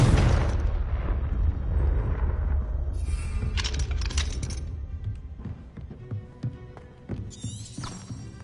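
A Confringo fire spell explodes in the Hogwarts video game: a loud, broad boom up front that rumbles and decays over several seconds, followed by scattered crackles, pops and debris clatter as the blast fades.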